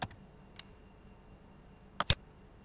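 A few sparse, sharp keystrokes click on a computer keyboard in a quiet room. One click comes at the start, one more shortly after, then a quick pair near the end.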